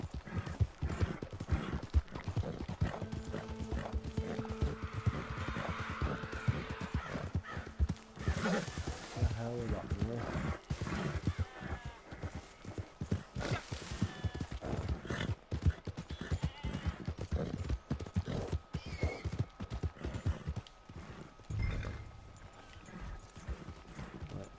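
Rhythmic clip-clop of horse hooves with an occasional whinny, steady throughout, mixed with Red Dead Redemption 2 game sounds and a person talking over them.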